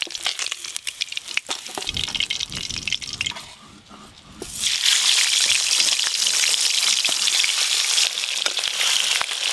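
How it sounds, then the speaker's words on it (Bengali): Fish sizzling in hot oil in a pan for a home-cooked fish curry, with crackling and spattering at first, a brief quieter dip, then a loud, steady, hissing fry that carries on to the end. "মাছ খুব ভালো করে ভেজে নিয়েছি"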